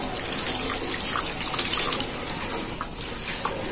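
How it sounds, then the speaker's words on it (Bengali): Running water splashes steadily from a tap over chhana, fresh cottage cheese made with lemon, in a home kitchen, a soft continuous hiss and patter. "এইটা এবার আমি জল দিয়ে পরিষ্কার করে ধুয়ে নেব।"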